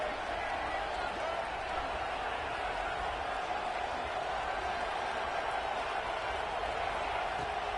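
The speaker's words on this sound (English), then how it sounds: "this crowd is electric trying to stop them" Stadium crowd in the College Football 26 video game roars steadily during a two-point conversion attempt, a dense, continuous wash of cheering noise throughout.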